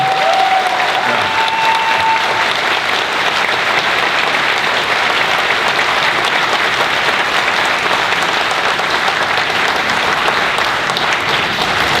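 Sustained applause from a convention panel audience at PAX West 2015, a steady dense wash of clapping that fills the room for the whole stretch with no speech over it.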